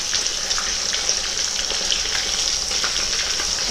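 King mackerel and garlic frying in hot oil, a loud, dense, continuous sizzle heard close up and steady throughout, with no talking.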